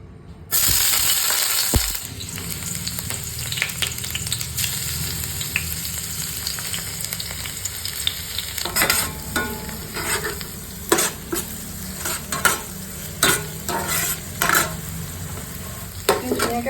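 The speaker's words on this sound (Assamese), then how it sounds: "ভাজিছো" Drumstick pieces sizzle steadily in a hot pan while a utensil scrapes and stirs in repeated strokes, close up and with no talking.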